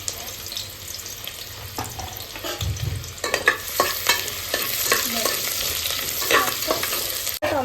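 Chopped onion dropped into hot oil for mutton curry, a soft hiss that builds into busy, close sizzling with repeated stirring scrapes and clatters, ending in a sharp click.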